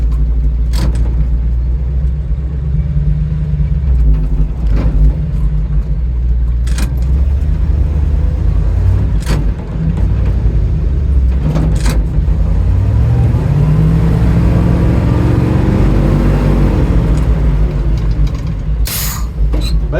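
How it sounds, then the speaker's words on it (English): A truck stuck in soft litter and compost rocks back and forth, its engine revving steadily and loud with rising and falling pitch, and sharp clunks now and then, with no one talking. "I'm gonna rock the truck a little bit and see what we can do about getting out of this little hole."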